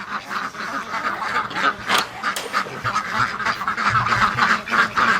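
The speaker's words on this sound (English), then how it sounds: "We're going to let some ducks out here." Ducks quack loudly and repeatedly, several birds calling over each other in an irregular, busy chorus close by.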